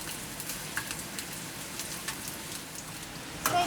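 Garlic, chilli and cumin frying in hot oil, a steady close sizzle and crackle like light rain, faint and continuous with a slightly louder spatter at the end.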